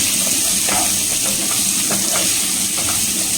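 Chillies, vegetables and mint sautéing in a hot pan, a loud, dense, unbroken sizzle and hiss with soft stirring scrapes underneath, close and without speech.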